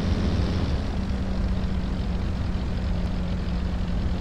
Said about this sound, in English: trying to listen to the airplane sounds, make sure my mixture is correct on the engine